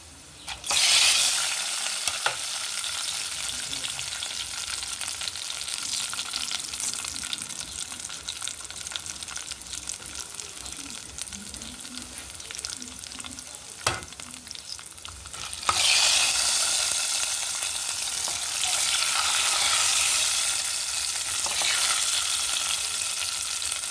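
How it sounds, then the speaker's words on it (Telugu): Mustard seeds, cumin, chana dal and urad dal frying in hot oil, a continuous crackling sizzle with occasional stirring clatter, growing louder and brighter partway through. "ఇంకా ఇక్కడ నేను ఆయిల్ పెట్టిన ఆవాలు వేసినానండి."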